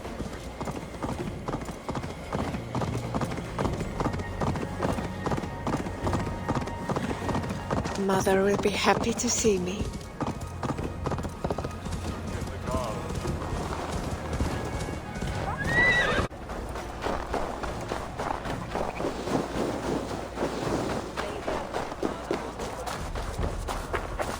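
Horse hooves clip-clop steadily at a trot in Assassin's Creed Valhalla, with a loud whinny partway through, while a voice speaks briefly over the hoofbeats.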